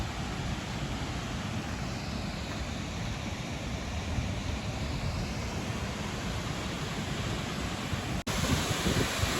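A large waterfall at Carrancas, Brazil, thunders as a continuous loud roar of falling water, dense and steady throughout, with a brief cut near the end.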